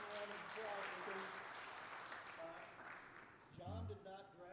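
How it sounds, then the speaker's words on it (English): Applause from a church congregation during a worship service, a broadband patter that runs under talking voices for most of the stretch and fades as speech takes over near the end. "let's give a round of applause"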